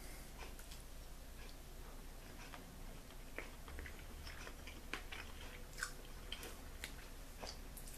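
Close, quiet chewing of brined beer can chicken cooked in the oven, soft wet mouth sounds and small crunchy ticks running steadily with no talking.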